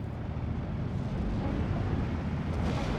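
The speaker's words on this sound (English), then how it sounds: "Here we see the explosions." Heavy explosions in a Steel Division 2 WW2 real-time strategy battle, a dense continuous low rumble with rolling blasts filling the whole stretch, loud and steady with no talk over it.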